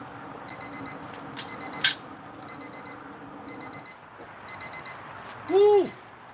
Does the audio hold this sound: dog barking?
no